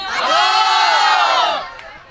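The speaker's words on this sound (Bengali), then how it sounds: "লোকজনের চিৎকার আছে, উৎসুক জনতা" A crowd of onlookers at a busy cattle market lets out a loud, sustained collective shout lasting over a second before it fades into background murmur.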